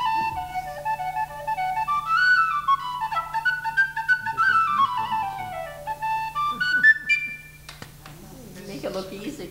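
An aluminum penny tin whistle plays a lively melody, bright sliding and ornamented notes rising and falling, steady and close, with a low constant hum beneath and no talking.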